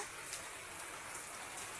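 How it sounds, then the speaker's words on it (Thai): Steady rain falls on a small sugarcane garden with palm trees on a Saturday morning in Chiang Yuen district, a dense, even hiss of drops close by with no voices. "ฟังเสียงฝนค่ะ"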